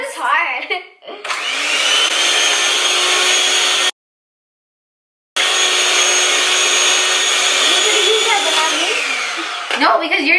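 An electric mixer whirs steadily while mixing pumpkin spice cookie dough, running loud and close for several seconds, cutting out briefly, then resuming before stopping.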